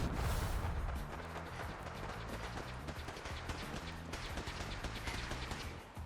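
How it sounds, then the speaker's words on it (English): Gunfire in the Fallout 4 video game, a run of repeated sharp shots with a steady rhythm, heard at moderate distance over a continuous noisy background, with no talk. "I hear gunshots."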